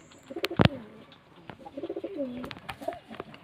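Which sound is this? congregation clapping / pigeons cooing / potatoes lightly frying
pigeons cooing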